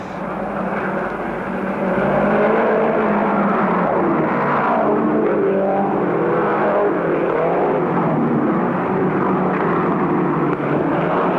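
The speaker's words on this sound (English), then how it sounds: "as they come off the members stand with a lot of steam coming from the cockpit of the Middlemass Volvo 54 as he comes up on the tail of Johnny Fenton" Speedway race cars, among them a Volvo, roar steadily around the track in a dense, continuous engine drone that swells as they pass close by.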